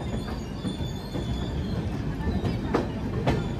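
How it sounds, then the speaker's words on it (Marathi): Mandovi Express arriving at Chiplun railway station during a monsoon journey: a steady rumbling roar of rolling carriages with faint clickety-clack of wheels, heard from on board at moderate volume. "गाडी आलेली आहे चिपळूण रेल्वे स्टेशन"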